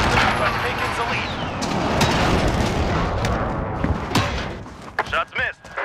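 Incoming airstrike explosions in a Call of Duty match: dense, continuous booming and gunfire-like rumble fills the scene, with a few sharp louder hits near the end and radio-style voices talking over it.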